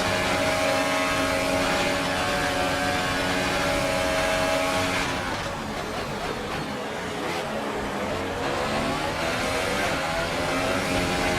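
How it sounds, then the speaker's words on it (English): In the F1 2018 video game at Baku, a race car with DRS open passes on the main straight, its high engine whine loud and sustained, then the pitch drops sharply as it goes by. "Raikkonen coming past us on the main straight. DRS assisted."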